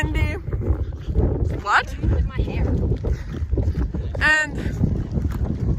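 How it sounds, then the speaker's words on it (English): Gusty wind buffets the microphone outdoors, a steady low rumble running through the whole stretch while people talk over it. "Oh, I predicted it would be windy."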